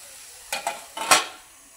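Hadga flower vegetable stirred in a pan over low heat, heard as a few close, quick scraping strokes of a spoon against the pan, three or four short sweeps, the last one loudest, over a faint background.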